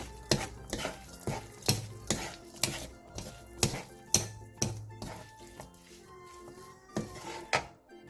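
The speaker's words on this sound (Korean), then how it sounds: "다 됐으면 불을 끈 뒤 홍고추, 후추, 통깨를 넣고 가볍게 뒤적여 마무리해주세요." Zucchini and fish cake stir-fry being tossed with red chili, pepper and sesame seeds, a utensil knocking and scraping against the pan in a steady series of close, sharp strikes over a faint sizzle.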